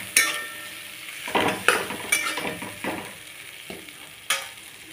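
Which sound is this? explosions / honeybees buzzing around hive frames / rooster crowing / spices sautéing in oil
spices sautéing in oil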